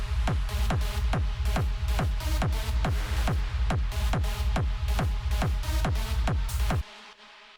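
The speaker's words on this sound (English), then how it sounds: "I wanted to do a drop here which shows what you can do if you're going down the super big room techno route" Big room techno drop with old school synth stabs driven by a heavy four-on-the-floor kick, loud and dense with steady pumping rhythm, cutting off abruptly near the end.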